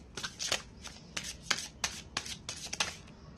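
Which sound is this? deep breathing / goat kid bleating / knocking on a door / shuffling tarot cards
shuffling tarot cards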